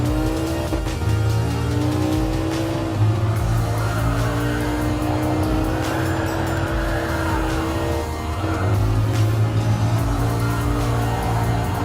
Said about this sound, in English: That's a lot of tire squeal.